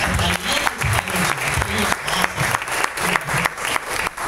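A business-talk audience applauds a speaker named Jim, a steady, dense wash of clapping from a large crowd that runs throughout, loud and close.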